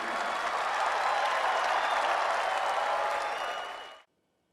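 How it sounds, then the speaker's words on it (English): A crowd claps loudly and steadily in dense, continuous applause that stops abruptly, leaving silence. "start clapping right quick"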